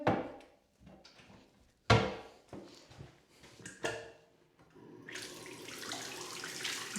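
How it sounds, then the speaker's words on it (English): A hotel bathroom tap runs steadily, water flowing into the sink as a continuous hiss after a few knocks and clatters of fittings and a cupboard in the room. "Good flowing water."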